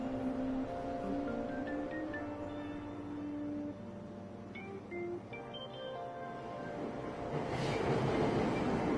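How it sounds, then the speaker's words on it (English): A subway train stands at Aoyama Ichome station in Persona 5 Royal, with steady rumbling and tonal motor whine, brief chime-like tones, then a rising rush as it pulls away, heard close and loud. "Train doors are now closing."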